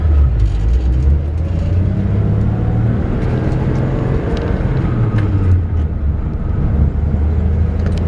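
A 1966 Chevrolet C-10 pickup truck drives along with a steady, loud low engine rumble and road noise from inside the cab, continuous throughout with no talking.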